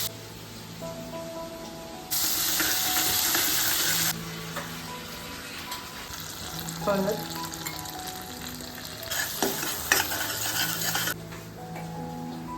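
Mustard seeds, asafoetida and garlic sizzle in hot oil in a wok for dal, a steady frying hiss with louder bursts as ingredients hit the oil and a few spatula scrapes, with no talking.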